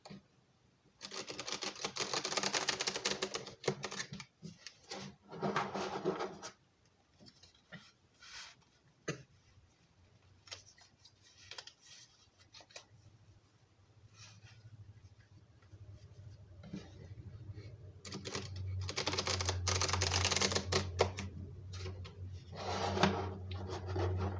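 Tarot cards are shuffled in two bursts of rapid riffling and flicking, separated by a quieter stretch of soft handling and low hum.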